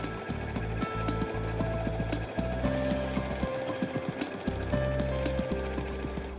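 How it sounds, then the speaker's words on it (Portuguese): A PFAFF Quilt Expression 4.2 sewing machine stitching steadily, with a fast, even mechanical rhythm and a pitch that shifts as the stitch pattern changes, heard up close with no talking. "aperte a tecla Start Stop para começar a costurar"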